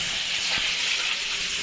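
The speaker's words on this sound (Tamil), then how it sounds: "இப்போ நம்ம நல்லா வதக்க ஆரம்பிச்சாச்சு." Vegetables for a vegetable kurma sauté in a pan over a slow flame, giving a loud, steady, even sizzle that fills the short stretch without any speech.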